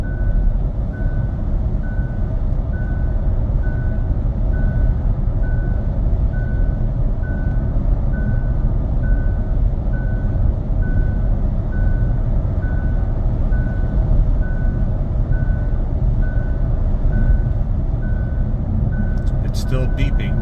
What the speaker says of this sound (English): So it's starting to beep at me and it's starting to flash.